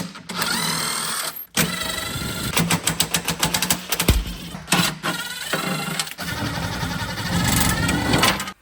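Bolts on the underside cover of a Range Rover Sport Supercharged V8 are loosened with a power tool, giving loud rattling bursts of impact-wrench hammering with short pauses between them, close up.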